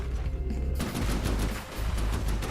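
Rapid bursts of heavy cannon fire from a warship in the naval combat game From the Depths, loud booming shots in quick succession with a dense low rumble and no voices.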